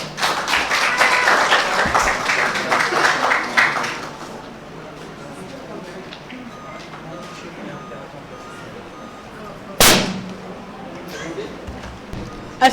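An audience applauds at a Thalassemia World Day event organized by a welfare group, a dense burst of clapping lasting about four seconds before fading into room noise, with a sharp knock later.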